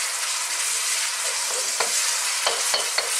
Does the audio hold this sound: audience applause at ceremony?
no